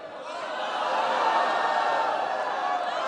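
Large crowd booing at a political rally, a loud, dense, sustained wash of voices that swells quickly and holds steady without individual words.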